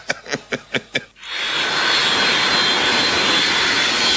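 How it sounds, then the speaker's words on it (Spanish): A large airplane departs an airport, its engine rising from a few rhythmic bursts into a loud, sustained roar that fills the air close by, with no talk over it. "Ahí está saliendo un avión."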